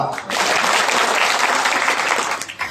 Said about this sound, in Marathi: गोड माणसं टाळी वाजवा